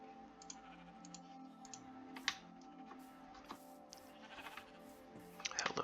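Sheep bleat in Minecraft, the soft bleats and small clicks scattered over a steady low game hum, with one brighter sound near the end.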